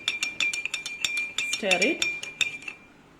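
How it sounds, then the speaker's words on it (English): A spoon stirs salt into water in a glass beaker, giving a rapid run of bright clinks and scrapes against the glass, close and fairly loud, with a brief murmur of speech in the middle. "I'm just going to stir it."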